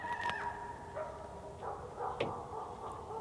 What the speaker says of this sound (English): They just found out what the dogs are barking at.